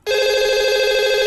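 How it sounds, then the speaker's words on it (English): Telephone rings with a sudden, loud, sustained electronic bell tone that holds steady throughout, alone and close. "He made a phone call."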